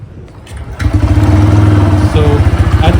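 A Bajaj Freedom 125 CNG motorcycle, running on petrol, fires up after a brief crank and settles into a steady, pulsing idle, close and loud.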